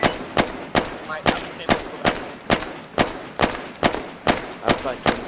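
Rapid gunfire in the military shooter Arma 3, a steady string of about a dozen sharp, evenly spaced shots, loud and close, with a voice briefly talking beneath it.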